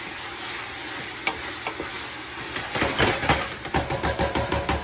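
Green peppers softening in a hot pan for homemade chili, a steady sizzle under stirring that turns into a rhythmic series of scraping strokes in the second half, close and clear.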